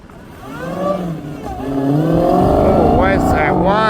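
A race car at the ECTA Arkansas Mile land-speed event accelerates from a slow start, its engine building into a loud rising drone with a high whine climbing on top, while people talk nearby.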